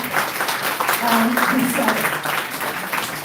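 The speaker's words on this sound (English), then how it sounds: "Please encourage her with a big round of applause." Audience applause at a college research conference, a steady wash of clapping filling the hall with voices murmuring and talking over it throughout.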